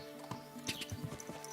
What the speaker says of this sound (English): Trying to get up some miles on my horse.